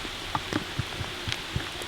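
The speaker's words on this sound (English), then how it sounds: "the rain is really coming down now" Rain falls outdoors at Montségur, a steady soft hiss with scattered close drips and taps landing on nearby surfaces at irregular intervals; no one speaks.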